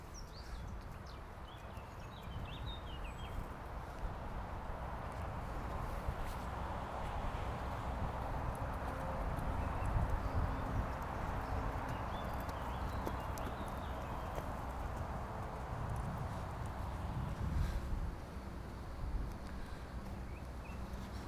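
Horse hooves clip-clop steadily at a walk throughout a riding lesson, close and continuous, with faint birdsong and occasional distant voices underneath.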